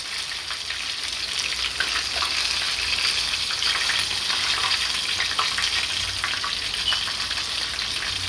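Chicken legs deep-frying in hot oil for crispy Caribbean fried chicken, a dense, steady sizzle with fine crackling pops, close and consistent the whole time, no voices.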